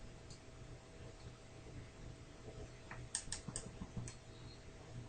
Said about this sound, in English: you're just going to type this into your calculator.